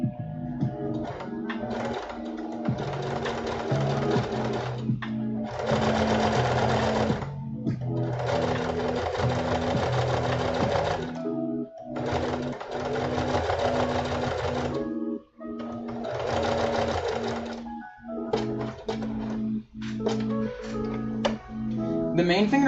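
Singer heavy duty domestic sewing machine top stitching fabric for a costume suit: loud bursts of steady mechanical whirring stitching, several runs separated by short pauses, close and alone.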